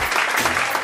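Brief burst of steady, bright applause from a group welcoming a new cheerleader onto the team, dense clapping throughout with no pause.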